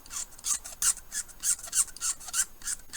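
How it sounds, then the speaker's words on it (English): A blade scrapes a seam line off a plastic part from a 1/35 scale Hobby Boss Leopard 2A6M tank model kit, making a close, rhythmic rasp of about ten quick strokes. "quick little scrape there."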